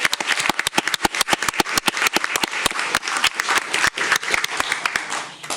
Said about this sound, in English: one last round of applause for our finalists and our champions.